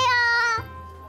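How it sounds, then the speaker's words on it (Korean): A cat gives a single clear, close meow that rises and then trails off, standing alone without any talk. "고양이랑 같이 가보자"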